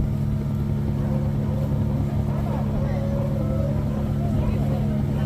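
A boat motor on the Ganges River at Varanasi, India, drones steadily with low, rumbling engine noise and water wash, and faint voices murmur in the background.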